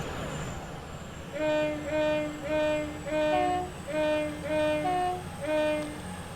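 A Class 221 train horn in Train Simulator 2018 plays a Star Wars tune: seven loud, clear two-tone blasts in a steady rhythm over the low rumble of the train.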